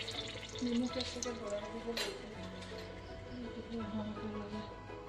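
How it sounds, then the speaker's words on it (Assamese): Dry red chillies fry in hot oil in a wok, giving a steady soft sizzle with occasional utensil clinks and stirring scrapes, while a person talks over the cooking. "মই ইয়াত কেৰাহীত গৰম হোৱাৰ লগে লগে তেল দি তাত মই শুকান জলকীয়া দিছোঁ।"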